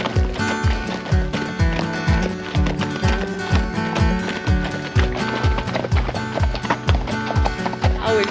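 Hooves clip-clop steadily as horses walk, a continuous rhythmic plodding up close over a busy outdoor background in Cotopaxi National Park, Ecuador.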